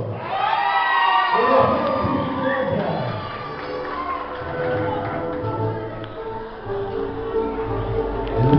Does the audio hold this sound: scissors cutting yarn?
no